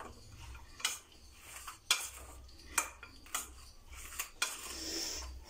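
Spices being mixed into food in a bowl with a utensil, heard as a series of close, light clinks and scrapes of metal against the dish in an uneven rhythm.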